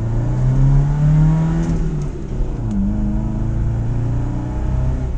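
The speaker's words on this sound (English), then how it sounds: "this is like normal acceleration and now you get kickdown." Nissan 720 pickup fitted with a Weber carburetor accelerating on kickdown, heard from inside the cab: a loud engine roar with rising tones that dip at a gear change, then climb again and hold strongly.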